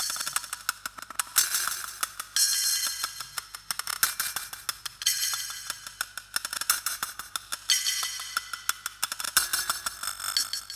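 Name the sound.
glitchy metallic percussive loop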